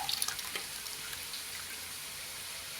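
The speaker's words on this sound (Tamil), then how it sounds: "புளியும் உப்பையும் ஃபில்டர் பண்ணிக்கலாம் மணல் இல்லாமல் இருக்கும்" Tamarind pulp and rock-salt water being strained through a filter to remove grit for a village-style sardine curry, a faint, steady watery trickle heard alone throughout.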